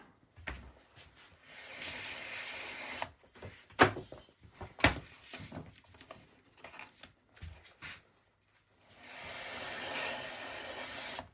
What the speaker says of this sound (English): what I'll do now with my horseshoe brand tool, this is number 1, same edge that I used on the holster, it's just trim all these edges off